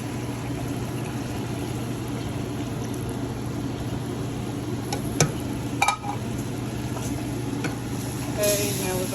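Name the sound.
Jamaican pepper steak sizzling, stirred with brown gravy mix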